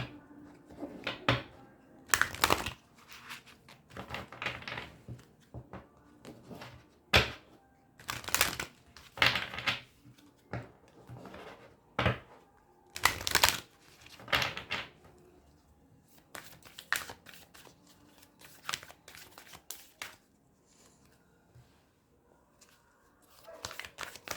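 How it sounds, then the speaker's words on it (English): Oracle cards being shuffled and handled during a reading, giving repeated crisp riffling bursts and soft papery slaps in an irregular rhythm, close and moderately loud, with no talking. "let's pull out some more oracle cards for you"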